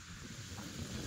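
Wind blowing outdoors in a village countryside, a steady broadband rushing and buffeting on the microphone, continuous and moderately loud with no talk.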